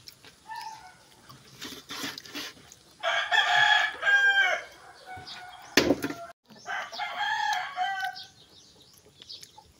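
A rooster crows in loud, harmonic bursts alongside chicken clucking, with one sharp close cluck in between, and the calls repeat across the span with short quiet gaps and no talk.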